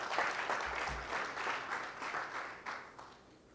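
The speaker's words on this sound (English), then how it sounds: "Give him a big round of applause" Audience applause rings out for an Atlanta councilperson at an outdoor street sign unveiling, a steady wash of clapping heard at moderate distance that gradually tapers off.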